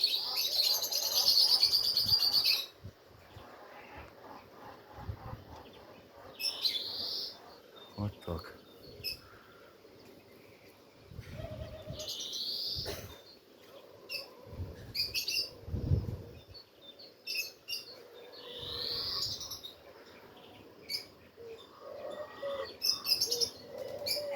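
Outdoor pigeon scene with birds chirping in sharp high bursts and soft low cooing, quiet and intermittent, with a louder burst of chirps at the start and faint background murmur throughout.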